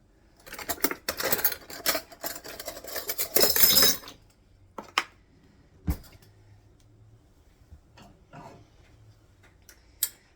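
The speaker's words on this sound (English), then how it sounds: "Let me grab a little spoon here." A metal spoon clatters and clinks against dishes in a kitchen, with a dense run of rattling for the first few seconds, then sparse single clicks and taps spread out over the rest.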